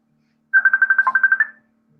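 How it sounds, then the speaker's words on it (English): A phone ringtone trills in a rapid burst of about a dozen evenly spaced beeps, loud and close, then stops, leaving near silence. "I told you my phone is blowing up."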